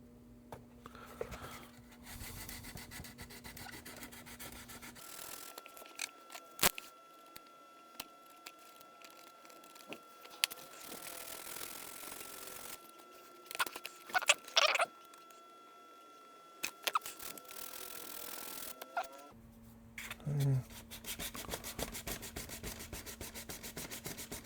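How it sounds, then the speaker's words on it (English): Hand sanding on a plastic RC car body, a Toyota VS-410 from RC4WD, gives close, soft rubbing scratches in bursts with pauses and small handling clicks, with no clear talking. "All right, that is sanded out."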